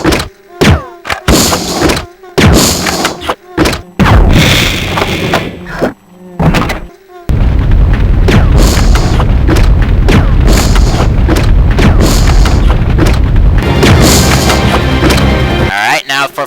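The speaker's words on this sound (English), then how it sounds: "Now for acid rounds." Acid rounds fired in Resident Evil Code: Veronica X, a video game: several loud, separate booming shots with short gaps between them, then a dense, continuous wash of game noise and rumble that runs to the end.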